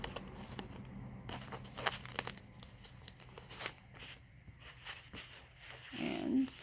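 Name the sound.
tearing adhesive tape by hand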